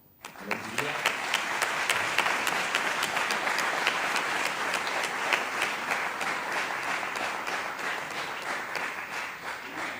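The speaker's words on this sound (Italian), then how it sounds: "un grande applauso alla giuria" An audience at a national choir competition's closing event applauds the jury, a full, steady round of clapping that starts abruptly and carries on evenly, with a voice faintly under it.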